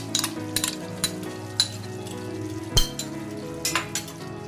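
Whisked sour yogurt going into a pan of sizzling prawns for doi chingri, a steady frying sizzle with scattered clinks and scraping of a utensil against the pan, close and moderately quiet, with no talk.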